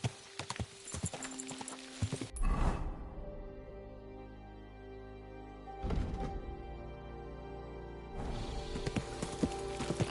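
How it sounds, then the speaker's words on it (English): Horse hooves clip-clop in Kingdom Come: Deliverance II, a steady rhythmic trot heard up close with loud bursts of hoofbeats at the start, middle and end over game ambience. "Easy, good horse."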